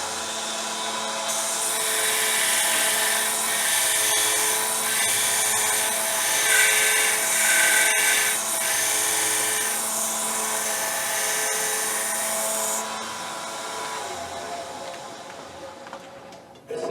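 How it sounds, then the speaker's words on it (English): Close, continuous high-pitched whine of a grinder sharpening a tungsten welding electrode to a point, steady for most of the clip before it winds down near the end. "What I do is I grind it to a point"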